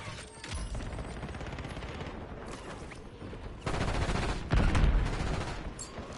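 Sustained automatic gunfire in the Warzone video game, loud, dense bursts that swell and intensify toward the end.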